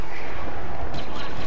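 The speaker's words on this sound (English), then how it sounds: "Rebel airstrike incoming." Rebel airstrike explosions in a Star Wars video game, heavy booming blasts rumbling together in a dense burst of battle noise for a second or two.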